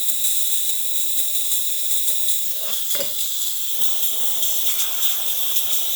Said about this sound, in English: it's a nice steady steam coming out through the machine